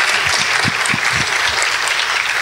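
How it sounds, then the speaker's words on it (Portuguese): Audience applause at a Portuguese-language interreligious dialogue event, a steady dense wash of clapping filling the whole clip, loud and close with no talk over it. "Pode aplaudir, pessoal."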